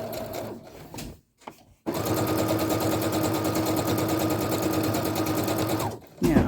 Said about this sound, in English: I'll let the sewing machine pull it in